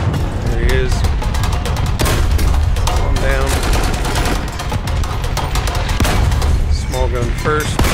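Tank gunfire in a War Thunder ground battle with a T-35, bursts of shots and booms running continuously over a dense, loud battle din, with someone talking throughout.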